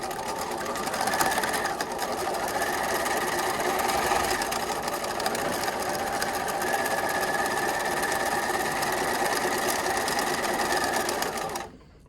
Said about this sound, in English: we're gonna sew the two pieces of my crown together